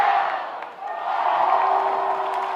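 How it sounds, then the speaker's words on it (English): Home crowd at a Friday night high school football game roaring for the Saints on third down, a sustained dense cheer that dips briefly and then swells again. "Saints crowd making some noise on 3rd down."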